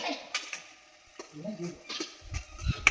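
Spices being stirred in a hot cooking pan give soft scraping strokes and light sizzling crackle, close and fairly quiet, with someone speaking between the stirs.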